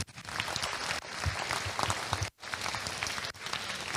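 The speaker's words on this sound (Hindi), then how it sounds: "एक बार तालियां दी उनके लिए" Audience applause at a Hindi-language talk session, a dense, steady clapping that fills the space for several seconds with a brief dip midway, with no speech over it.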